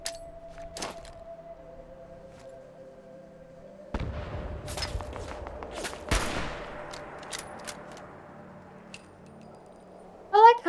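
Sporadic gunfire and booming blasts from AI enemies in Fallout 76, some distant, some sharper and closer, with rolling echoes over a low game hum; brief bursts separated by quieter stretches.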